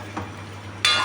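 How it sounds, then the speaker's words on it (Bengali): Okra and potatoes fry in a pan over a steady low hum, with a soft sizzle near the start and a louder, bright burst of sizzling at the end of this short moment. "এই যে ভেন্ডি আর আলু ভাজা করছি"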